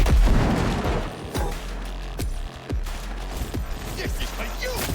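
A grenade blast in Cyberpunk 2077 gameplay, a loud booming explosion at the start followed by rumbling and sharp gunfire cracks, with a voice speaking over the action.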